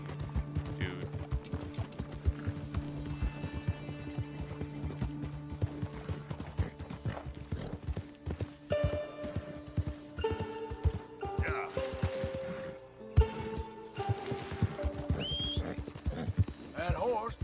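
Steady clip-clop of hooves trotting along in the video game Red Dead Redemption, with mechanical game sounds and occasional snorts, fairly close and continuous throughout.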